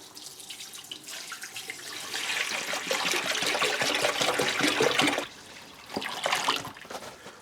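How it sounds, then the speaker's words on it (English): Distilled water, about four liters, is poured into the tank of an ultrasonic cleaner in a steady, gushing stream that builds louder, then breaks into a few shorter splashes near the end. "Now I've just dumped 4 liters of water inside the machine, which is just over 1 gallon"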